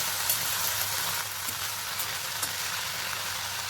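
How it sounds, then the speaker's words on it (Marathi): Washed, chopped spinach being sautéed on a high gas flame after garlic and chilies, giving a steady close sizzle with occasional faint stirring clicks. "इथं मी धुवून कापलाय पालक आणि फास्ट गॅसवर परतून घेऊया आपण"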